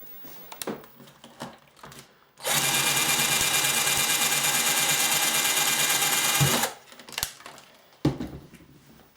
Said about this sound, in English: I actually had to drill out some of those screws that were so badly corroded